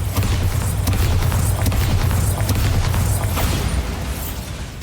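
A Bombarda spell explosion in the wizarding game Hogwarts Legacy, a loud booming blast with crackling bursts rolling on for several seconds amid dense battle noise.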